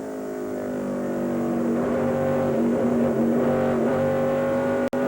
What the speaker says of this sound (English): you can hear the throttle there in Stacy Compton's truck as they start off the corner